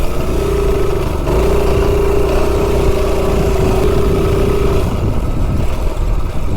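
Kohler CH270 mini bike engine running at a steady, loud drone with a sustained tone that dips briefly then holds before dropping off, alone with no voices.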